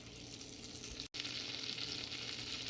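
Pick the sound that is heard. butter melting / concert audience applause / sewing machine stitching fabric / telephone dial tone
butter melting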